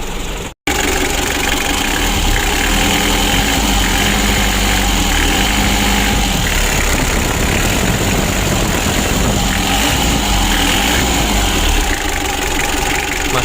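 A 2017 Mitsubishi L300 diesel engine idles steadily and loud, with a dense low rumble and vibration that runs unbroken after a brief dropout at the start.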